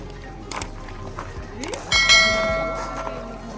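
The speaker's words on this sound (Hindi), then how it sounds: "और उसके बाद ये घंटी बजाई" A bell rings out once with a bright, lingering metallic tone that slowly decays, preceded by a few soft knocks and light background noise.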